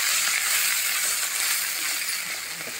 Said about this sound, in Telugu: పోపు వేగిన తర్వాత మనం కొబ్బరి మొత్తం వేసి ఒక 2 నిమిషాలు మగ్గబెట్టుకోవాలి.